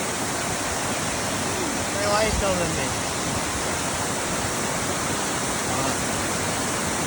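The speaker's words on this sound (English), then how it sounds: "Waterfall." Constant broadband rushing of falling water, steady and enveloping, with a brief voice heard faintly over it.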